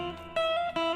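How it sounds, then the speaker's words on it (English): Guitar sounding a dissonant cluster of minor-second intervals, with two sharp attacks that ring on as sustained, clashing tones, played alone. "all minor seconds, and that's the sound of the minor second"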